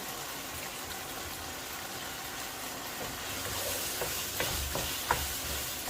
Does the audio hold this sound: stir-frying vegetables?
yes